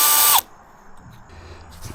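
A power drill drives a screw into a treehouse board in one loud, close burst under half a second long, then the sound drops to a quiet background.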